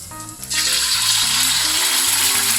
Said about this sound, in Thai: ต่อไปก็เอาไข่ไปเจียวเลยค่ะ